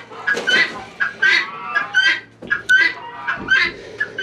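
Farm chickens clucking on a fall morning, close and busy: overlapping short clucks and murmuring calls from several birds in an uneven rhythm, with no talk.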